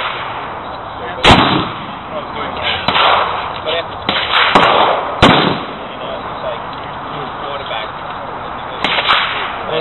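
A .50 Smith Carbine, a Civil War-era Union rifle, fired outdoors: several loud, sharp cracks spaced a few seconds apart, with quieter pops and ambient noise between them.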